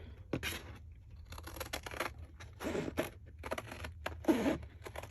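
Scissors cut through a recycled hot chocolate cardboard box in several separate close snips and crunches, with quiet pauses between the cuts.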